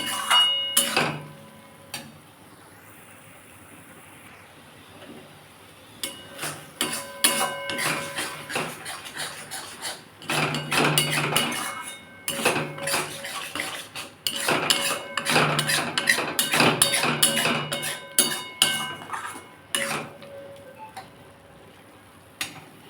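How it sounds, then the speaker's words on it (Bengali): Metal utensil clinks and scrapes against a pan in irregular bursts while drumstick (moringa) pods fry, with a faint background hiss of cooking between the strokes. "এবার আস্তে আস্তে বন্ধুরা এটা একটু ভাজতে হবে"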